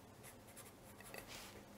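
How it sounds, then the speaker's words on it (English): Someone writing by hand, faint scratchy pen or marker strokes in short irregular bursts at a quiet, close distance. "I write it down."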